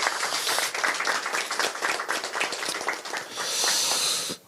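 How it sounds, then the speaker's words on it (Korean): Applause from an audience at a Korean political party event: dense, steady clapping lasting several seconds and swelling louder near the end before stopping abruptly. "김남준이 가는 길에도 앞으로 영광이 함께 하기를 바라면서 여러분 큰 응원의 박수를 부탁드리겠습니다."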